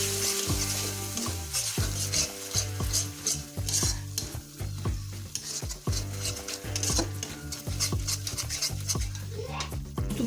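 Poppy seed paste frying in a wok for potol posto, with a steady loud sizzle under repeated scraping and clanking strokes of a metal spatula against the pan.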